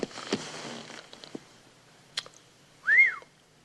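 A person whistles by inhaling only rather than exhaling, giving one short, clear rising-and-falling whistle near the end, after some soft rustling and faint noises.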